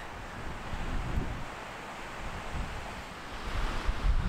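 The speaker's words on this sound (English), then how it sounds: "Holy crap, it's windy this morning." Strong wind roars steadily across the microphone on a morning in the mountains of the Ansel Adams Wilderness, a continuous rushing gust with no voices.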